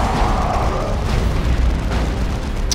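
A burning enemy vehicle blows up in the Warhammer 40,000: Dawn of War 2: Chaos Rising video game, a loud, sustained rumbling roar of explosion and fire that fills the whole moment.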